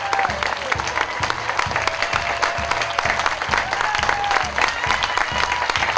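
Audience applause fills the room at an event in Kennebunkport, Maine welcoming home a soldier, steady clapping from a crowd throughout with a faint voice underneath.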